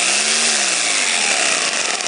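An electric hammer drill from an electronics tool kit bag runs at high speed with its trigger pressed hard, giving a loud, steady, close-up motor whine that holds constant for about two seconds with no talking.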